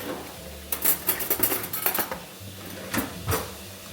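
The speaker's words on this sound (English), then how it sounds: "Continuing to stir our noodles." Noodles being stirred in a pot for a spicy crab and shrimp pasta, with a run of quick clinking scrapes of utensil against cookware, then a couple of separate louder knocks, close by and with no talking.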